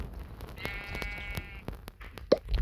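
A single wavering sheep bleat sounds in Minecraft, moderately loud and close, among soft plopping and clicking game noises, with no talk.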